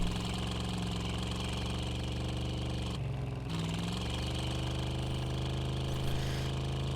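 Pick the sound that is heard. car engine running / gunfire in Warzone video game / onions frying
car engine running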